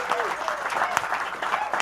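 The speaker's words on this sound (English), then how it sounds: "Big round of applause to Katie Puckrik, please." Studio audience applause on a television show, a short burst of close, busy clapping with a voice talking over it.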